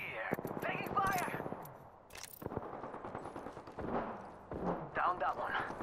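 Bursts of automatic gunfire in Apex Legends rattle in rapid, close strings broken by short pauses, with sharp impacts and voices talking in between.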